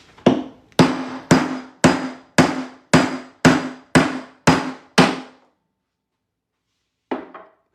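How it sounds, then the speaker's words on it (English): A 2-pound brass hammer strikes an 1882 Morgan silver dollar being punched for a coin ring, nine loud, evenly spaced metallic blows with ringing decay, then a pause and one last lighter tap. "now I use a 2-pound brass hammer to punch with"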